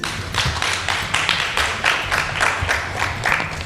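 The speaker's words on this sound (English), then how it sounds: "Another loud round of applause, please." Loud round of audience applause at a panel event, with hands clapping in a steady, roughly rhythmic pulse of close, punchy claps throughout.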